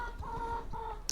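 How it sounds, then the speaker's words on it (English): Chickens cluck in short, nasal, repeated calls, two clear bursts close by and moderately quiet, in a yard of excited birds. "Chickens"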